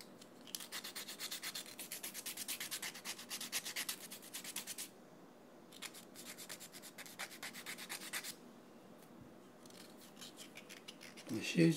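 A fingernail is filed smooth for classical guitar playing, with close bursts of rapid, rhythmic rasping strokes broken by short pauses.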